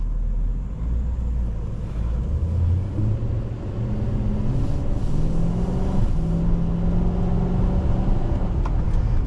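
A 2004 Nissan Titan 5.6 truck with a torque-converter automatic pulls under acceleration, engine drone rising in pitch then easing as the transmission slips into the next gear, a steady low rumble from inside the cab.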